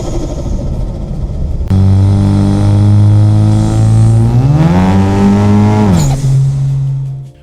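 Modified Ford Mustang EcoBoost with CVF intercooler, CVF charge pipes, HKS blow-off valve and Roush intake, loud close engine rising in a rev, then a sharp turbo blow-off hiss as revs drop back.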